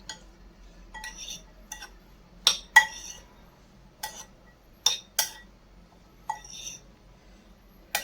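A spoon mixes jujube chutney with lemon juice in a bowl, producing sparse, sharp metallic clinks and taps against the dish at irregular intervals, close and fairly quiet between strikes.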